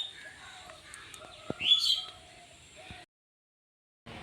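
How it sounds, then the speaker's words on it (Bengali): Fantail (lakka) pigeons in a home loft give soft coos and brief chirps, fairly close, with a short louder burst midway before the sound cuts to silence and then returns faintly. "কত সুন্দর লক্কা পায়রা, এর বাচ্চা বেবি আছে দুটো ছোট ছোট।"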